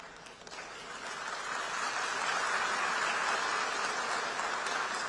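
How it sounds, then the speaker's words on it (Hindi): Audience clapping at a political speech, a broad, distant patter of many hands that starts soft and swells into sustained applause, fairly faint overall. "आप गया था इसकी ताली बजा रहे हो,"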